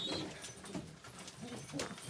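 Tumbler pigeons in a coop give soft, low coos in short repeated bursts, fairly quiet and close, with faint rustling around them.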